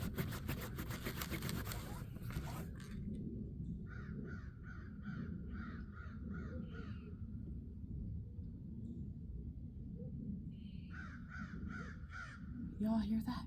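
A crow caws in two rhythmic series of harsh, evenly spaced calls, clear and fairly close, after a stretch of someone talking and rubbing at the start, over a low background rumble.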